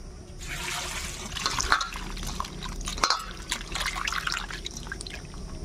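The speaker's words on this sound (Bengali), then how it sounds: "এবার একে ভালো করে ধুয়ে নেব" Sliced ripe bitter gourd being rinsed in water, with steady splashing and dripping, a few sharper drips and sloshes standing out, close and moderately loud throughout with no talking.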